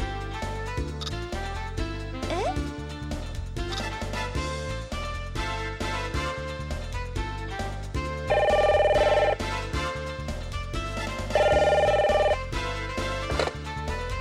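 A telephone in the Detective Conan PlayStation game rings in two short electronic bursts over looping background music, the first ring past the midpoint and the second a few seconds later, with no talk.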